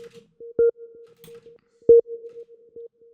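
A saturated techno synth tone with reverb pulses in short rhythmic hits on a steady pitch, two stronger accents standing out among quieter repeats, with a clean, dry background.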